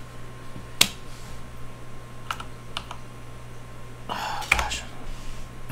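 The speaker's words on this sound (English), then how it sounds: "Clicking all the wrong buttons." Computer keyboard and mouse clicks during a session of The Sims 4, sparse sharp taps scattered over a low steady hum, with a small burst of clicks near the end.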